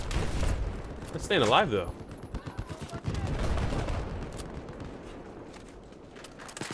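Gunfire from Battlefield 4 multiplayer on PS4 crackles in short bursts, with one sharp louder volley early on, under a player's excited commentary.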